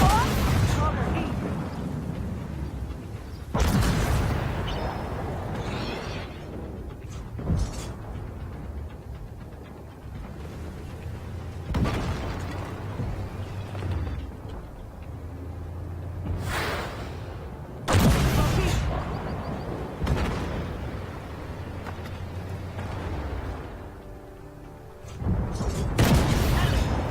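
Heavy tank cannon shots and booming explosions from an Armored Warfare battle featuring a C1 Ariete and a Challenger 2, several loud blasts spaced across the scene with someone talking throughout.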